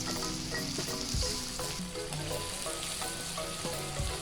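Shrimp stir-fried with spices in a hot pan for Bandung-style mie tek tek, a steady loud sizzle with scraping spatula strokes and clinks throughout, no voices.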